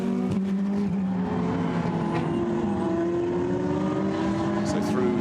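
Ferrari GT race cars in a Blancpain GT Sports Club qualifying race at Paul Ricard drone steadily with high engine tones rising in pitch, a continuous loud racing roar, with a commentator likely talking over it.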